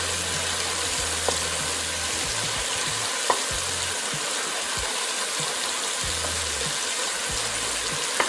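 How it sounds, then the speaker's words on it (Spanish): Spices stirred in a sizzling pan for Peruvian seco de pollo: a constant frying hiss under scattered scrapes and occasional sharp knocks of the spoon against the pan, close and steady. "Mezclamos por completo todas las especies que hemos agregado."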